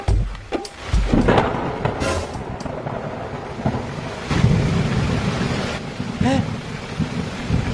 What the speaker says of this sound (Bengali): আজকাল তো বৃষ্টি পড়ে